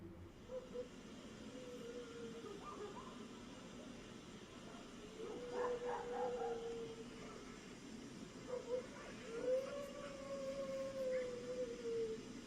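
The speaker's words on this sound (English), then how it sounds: "We hear barking, we hear howling," Dogs bark and howl outdoors at night, with drawn-out wavering howls rising at intervals over a low rumbling background, moderately distant and faint, with no talk.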